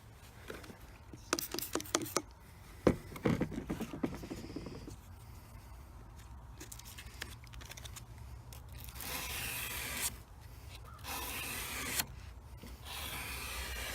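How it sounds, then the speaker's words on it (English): O1 tool steel chef knife blade being hand sanded with sandpaper on rubber to remove light rust, uneven scraping strokes with some sharper clicks early, then steadier close rasping passes. "I'll refine it a little bit with same sandpaper with the rubber."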